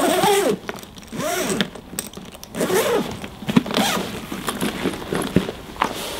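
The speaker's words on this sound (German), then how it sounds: "Du öffnest sie von außen mit einem doppelläufigen Reißverschluss." Double-slider zipper on a backpack front pocket being opened, a series of short rasping zips with brief pauses between strokes, close and fairly loud.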